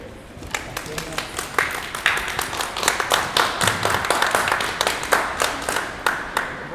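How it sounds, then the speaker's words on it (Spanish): An audience applauds at a book presentation in the Capilla del Arte, a close, loud clatter of clapping with a few distinct hands standing out in a quick, uneven rhythm that builds and stays strong throughout. "Un aplauso."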